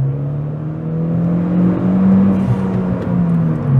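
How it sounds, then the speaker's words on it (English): A Honda Civic Si engine revs steadily upward as the car accelerates hard through second gear, a loud continuous rising drone heard alone with no talking. "all the way till the end of second gear and we're up to speed"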